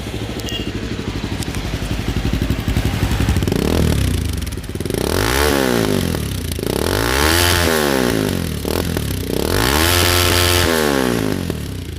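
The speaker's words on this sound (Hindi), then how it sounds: "तो अब मैं आपको एग्जॉस्ट साउंड इसकी सुना देता हूँ बाइक की।" A Bajaj Pulsar 220F motorcycle without its dB killer is started and revved nearby, a steady idle chug followed by several loud throttle blips, each rising and falling in pitch, with a brief dip between them.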